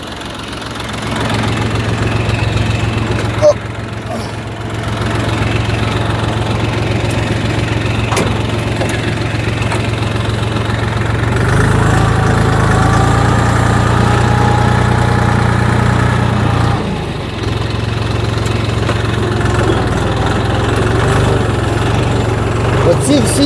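A YTO 244 SX tractor engine labours uphill pulling a Fiona D-70 seed drill while sowing winter wheat, a steady close drone with a deeper pull midway, under a voice talking at times.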